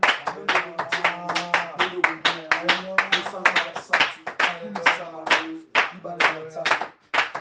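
Congregation clapping in rhythm during worship in a French-speaking church, steady group claps that continue beneath a voice speaking or singing, close and lively.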